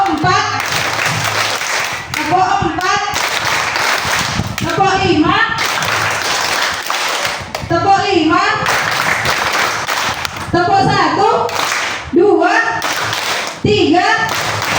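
A roomful of primary school pupils at a Ramadan holiday class claps in unison during a counting game, several loud bursts of rapid claps separated by short pauses where an adult voice leads.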